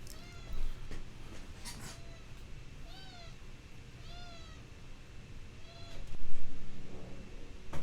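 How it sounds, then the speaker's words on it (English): A pet cat meowing repeatedly, several rising, drawn-out cries spaced a second or so apart, fairly close over a low background hum, with a louder scuffle near the end. "Yeah, I'm letting my cat out."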